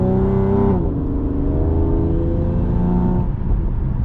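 A car engine under normal, unhurried driving, a loud steady drone with gear-like tonal shifts, the pitch dipping and climbing gently over a few seconds, close inside the cabin.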